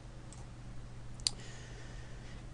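A single soft computer mouse click, faint and close, over a quiet low room hum.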